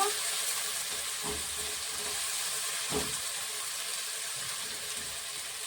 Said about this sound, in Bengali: দুটো শুকনো লঙ্কা দিয়ে পেঁয়াজ কুচিটা দিয়ে ভালো করে ভেজে নেব